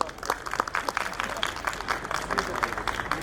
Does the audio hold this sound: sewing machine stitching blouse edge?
no